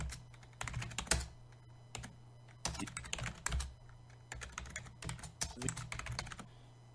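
Steady typing on a computer keyboard, with irregular bursts of clicking keystrokes close by and a low steady hum underneath, no talking.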